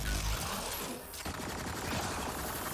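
Rapid bursts of gunfire from a firefight in Mass Effect Andromeda, loud and dense, with cracks and fast volleys running nearly the whole time and a brief dip in the middle.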